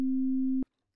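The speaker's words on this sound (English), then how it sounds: "What you hear is the good old boring sine wave." A plain sine wave from the Rounds digital FM synthesizer sounds as one steady, pure low-pitched tone held for about half a second before cutting off abruptly, followed by near silence.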